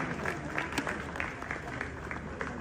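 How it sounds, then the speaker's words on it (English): Crowd applause in Ghana for the YouTuber Wode Maya, a continuous patter of clapping with individual claps standing out, moderately loud throughout. "A round of applause for Wode Maya."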